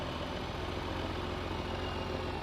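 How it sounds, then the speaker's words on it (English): Turbocharged tractor engine idles in Farming Simulator 22 as a faint, steady, low mechanical drone with no other sounds. "This tractor here sounds pretty meaty, and it's got that turbo on it."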